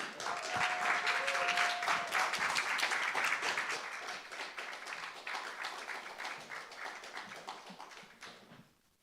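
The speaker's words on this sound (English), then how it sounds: "I want a stadium-sized round of applause for the fantastic Tom Mary" Audience at a live comedy show at The Bedford applauding a performer, a dense, sustained round of clapping that stays loud for several seconds before gradually thinning and fading out.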